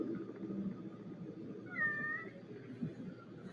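A single short cat meow in a Siren Head video game rises briefly above a low, steady background rumble.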